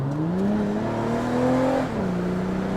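A 2007 Saturn Vue with a J-series engine accelerates, its engine note climbing steadily in pitch under throttle, heard from inside the cabin, then dropping as the gear shifts and the drone settles, no talk.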